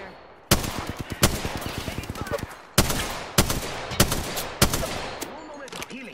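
Bursts of automatic and single-shot gunfire from the battle royale video game Apex Legends, loud sharp cracks in several clusters with brief pauses between volleys.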